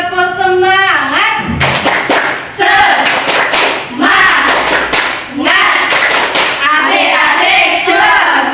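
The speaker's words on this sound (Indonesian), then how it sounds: "kita tepuk semangat terlebih dahulu ya" A school class doing a rhythmic tepuk semangat chant, bursts of clapping and slaps in patterned sets mixed with loud children's and teacher's voices chanting along, close and lively throughout.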